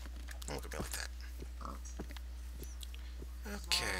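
Pigs oink and grunt in the Minecraft video game, several short bursts scattered over a steady low hum, mixed with other game noises.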